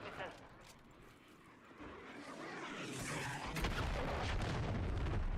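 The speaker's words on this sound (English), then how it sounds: "launch the cruise missile" A cruise missile launches and strikes in Call of Duty: Modern Warfare 3, a rising roar that swells into a sustained heavy boom and rumble, building louder toward the end.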